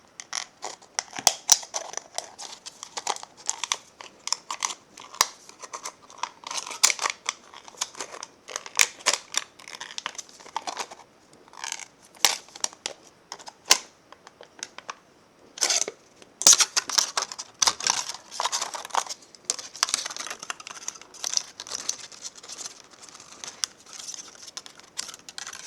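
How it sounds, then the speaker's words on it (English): Scissors snipping around the bottom piece of a tin can, a long run of close, sharp metallic clips and crunches in an irregular rhythm, with no one speaking. "I'm going to cut round again the bottom piece"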